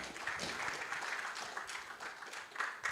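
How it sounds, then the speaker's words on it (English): An audience at a digital assets summit in Africa claps weakly and unevenly, producing a thin, steady patter of applause that fades slightly and then picks up again near the end, with no voices over it. "You are clapping like you're exhausted."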